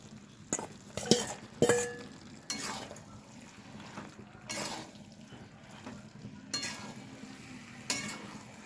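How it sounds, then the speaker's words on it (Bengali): A spoon stirs cabbage and fried potatoes in a pan for a Bengali cabbage curry with rui fish head, giving repeated loud scraping strokes over a soft background sizzle, with no voices. "ভেজে রাখা আলুগুলোকেও আমি বাঁধাকপির মধ্যে দিয়ে একসাথে নাড়াচাড়া করে নেব"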